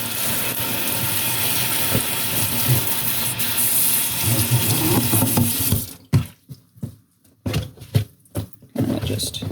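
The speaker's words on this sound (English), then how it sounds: "Now that everything is off of the stalk, time to wash them off." Vegetables washed under a running kitchen tap, a steady rushing stream of water that gives way to intermittent splashes and sloshing bursts with short gaps as the vegetables are moved around.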